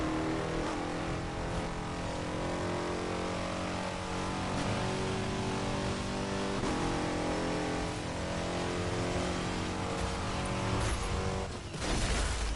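A car in Burnout Paradise roars continuously under hard acceleration, a loud, steady, rich engine note that holds for about twelve seconds before briefly dipping near the end.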